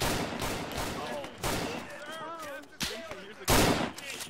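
Bursts of gunfire in a WW1 trench combat video game come in loud, separate volleys, with players' voices talking between and over the shots.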